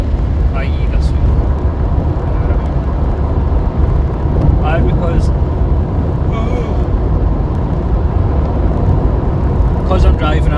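Steady low road and engine noise heard from inside a moving car, constant and loud, with a person talking over it throughout.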